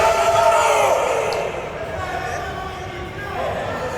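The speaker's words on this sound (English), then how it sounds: "Crowd is fired up today." A boxing event crowd roars and cheers in a loud, continuous wash that swells at the start and settles slightly, with no single voice standing out.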